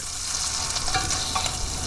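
Slices of Spam sizzle and crackle steadily in a hot pan while frying for Spam musubi, a dense, even hiss close up with faint stirring.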